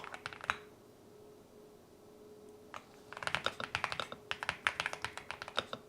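Close mechanical keyboard typing: a brief burst of clicks, a quiet pause, then a quick rhythmic run of crisp keystrokes.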